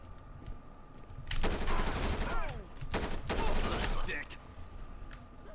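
Rapid gunshots during a SWAT bank-heist response in the video game GTA 5, two loud bursts of quick automatic fire separated by a short gap, with a radio-like voice and faint background hum around them.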